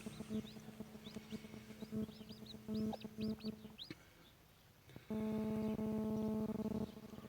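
A broody Indian hen with three newly hatched chicks, clucking in repeated bursts, the last a long loud run, while high thin chick peeps chirp over and between them, close by and with no talking.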